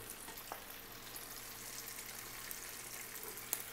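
Chicken frying in hot oil for a Coca-Cola sweet and sour chicken dish, a faint, even crackling hiss throughout with a small pop near the end and no talking.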